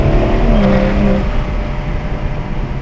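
A car accelerating hard in a street race in Mexico, where a Mustang runs against a BMW 340, with a loud engine roar whose pitch climbs briefly before settling into a steady rumbling drone.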